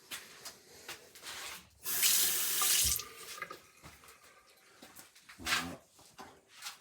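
Hot water runs from a bathroom tap in a newly finished bathroom, a loud rushing burst lasting about a second, with a shorter splash later and scattered clatter and handling noises around it.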